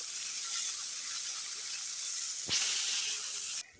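Onion paste frying in hot oil in a pan for egg curry, a steady broad sizzle throughout with a sharper hiss flaring near the end before it cuts off.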